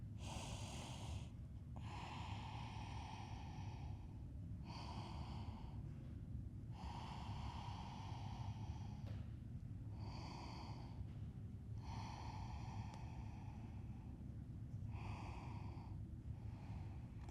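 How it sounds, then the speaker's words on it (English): Calm steady breathing during a yoga forward fold, slow close inhales and exhales repeating in a regular rhythm roughly every two seconds, soft and unhurried over a faint low background hum, with no talk. "We're here for 3 more calm, steady breaths."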